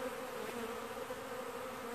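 Bees buzz in mild 25°C October warmth, a steady, continuous drone of many insects close by with no pauses and no voices.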